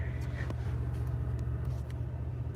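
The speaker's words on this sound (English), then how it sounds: "Now we'll take a drive in the 150." A Ford F-150 pickup truck driving, heard from inside the cab as a steady low engine and road rumble throughout, with faint light knocks on top.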